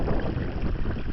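Cold wind gusts outdoors, buffeting the microphone with a steady low rumbling roar, loud and close, during a winter search for fossils and artifacts.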